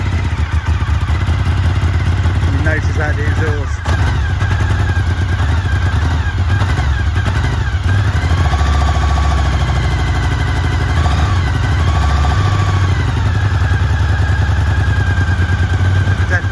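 A 2003 Suzuki SV 1000 S motorcycle engine, long unused and smoking a bit, runs loudly and close throughout with a steady throbbing idle and some clattery mechanical noise, as the throttle is held open slightly.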